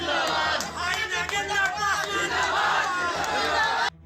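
Supporters at a political gathering in Rosera raise loud, overlapping shouts and chants, a dense crowd roar that stays steady for about four seconds before cutting off abruptly.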